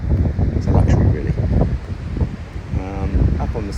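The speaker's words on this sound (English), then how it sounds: "Sorry about the wind, try and block it." Gusty wind buffeting the microphone at a beach house building site in Barbados, loud rumbling bursts that rise and fall, with people talking underneath.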